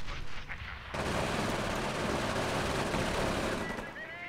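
Machine gun fire in the video game Company of Heroes, a sustained loud burst of rapid shots lasting several seconds, close and dense, with faint battle noise before and after.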